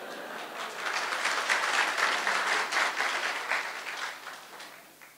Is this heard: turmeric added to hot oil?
no